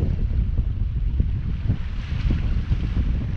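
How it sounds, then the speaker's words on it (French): Wind roars at sea aboard a First 26 sailboat off the coast between Brest and Morgat, near the Cap de la Chèvre, as a loud, gusting low rumble of buffeting microphone noise with no voices. "Là, le vent a l'air de se renforcer un petit peu"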